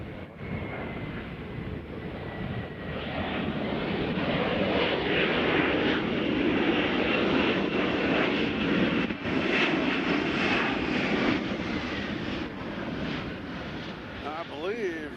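An airliner at Nashville International Airport produces a broad engine rumble that swells after the first few seconds and holds steady before easing slightly, with muffled voices at times.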